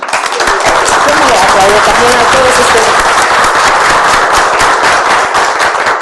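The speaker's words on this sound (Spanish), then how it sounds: "¿Qué les parece si le ofrecemos a la doctora Blancas un aplauso?" Loud, dense audience applause in an auditorium for a female doctor after her talk, sustained clapping filling about six seconds with a brief voice over it early on.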